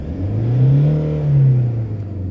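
A Toyota Hilux Vigo turbo diesel with a VNT turbo revs up in two swelling pulls, a loud close low engine drone rising and falling with no talk over it.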